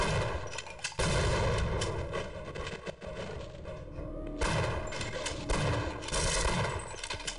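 Shotgun blasts from the game Half-Life boom loudly and repeatedly over dense, chaotic combat noise, with several heavy shots standing out among continuous gunfire and thuds.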